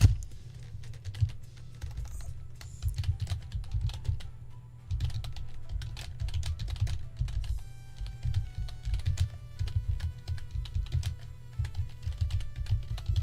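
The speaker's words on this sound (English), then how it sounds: "If you're wondering what I'm typing, you can hear me." Steady clicking of computer keys, typed in irregular bursts over a low background hum, close by.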